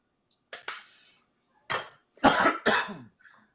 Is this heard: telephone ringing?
no